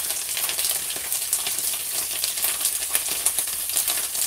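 Peppers, onions and garlic fry in a pan for a mackerel rundown, a dense, steady crackling sizzle heard close and alone throughout.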